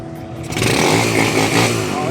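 A TMX155 motorcycle engine catches after a kick-start and runs with a loud, steady, throaty idle, close to the microphone.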